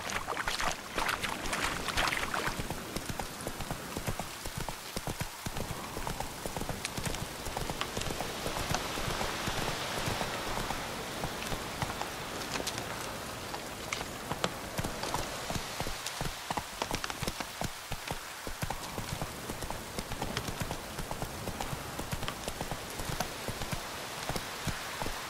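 Roach the horse galloping through rain in The Witcher 3, rapid hoofbeats running continuously under a dense, steady hiss of rainfall, loud and close throughout.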